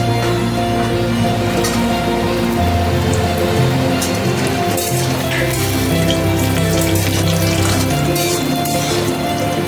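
Hot oil sizzling and frying steadily in a pan while cooking sukto, with fried lentil dumplings (bori), a loud continuous crackling hiss throughout.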